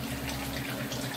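Water is poured into a pot of fish curry in a home kitchen, a short, close, bubbling splash of liquid lasting about a second.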